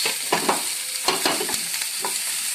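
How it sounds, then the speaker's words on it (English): Mixed vegetables with baby corn tossed in a hot wok for a stir fry, giving a steady sizzle broken by several scraping, clattering tosses, close and fairly loud with nobody speaking. "make sure that you add all the vegetables at the same time and just toss it like this"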